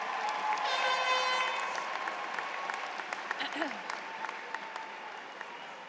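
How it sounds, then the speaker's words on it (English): Graduation audience at a high school ceremony applauding steadily, a dense wash of clapping that swells early then gradually thins and fades, with some cheering mixed in. "Give them one more round of applause."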